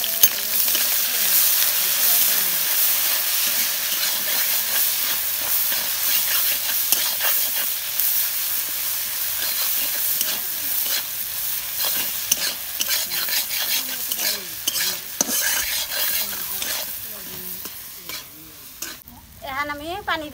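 Sliced onion and green chilli fry in hot mustard oil in a wok over a fire, a loud, continuous sizzle with frequent scraping stir strokes that quiets toward the end.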